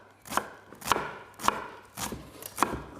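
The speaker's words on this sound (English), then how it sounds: "push your knife through the onion" A knife pushes through an onion on a cutting board in five or six crisp, evenly spaced chops, close and clear, with no talking.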